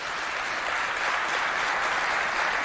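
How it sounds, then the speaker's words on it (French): An audience applauds a doctor at a school event, a school competition between Lycée Moderne Le Patriote and Lycée Les Excellents. The clapping is dense and steady, a loud continuous wash that holds throughout. "On applaudit bien fort, docteur."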